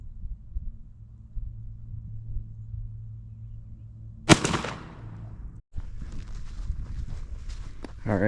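A single shotgun shot fired at a patterning board to check pattern spread, a sharp loud crack at mid-clip with a short decaying tail, followed by faint shuffling and handling noise.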